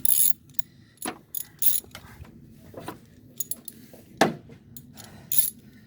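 Ratchet wrench tightening the positive battery terminal on a 2008 Ford E-350, with short bursts of clicking pawl strokes repeated several times, close and clear, separated by brief pauses and metallic clinks.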